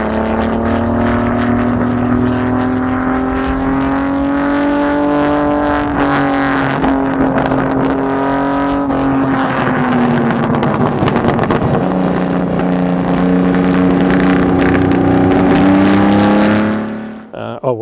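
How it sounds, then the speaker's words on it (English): A 1958 Ferrari Dino V6 Formula One recreation engine runs loud and close with a raspy, harmonic-rich tone, holding steady revs before dipping and climbing again, with wind buffeting, then cutting off abruptly at the end. "the V6 Ferrari Dino engine did have a wonderful"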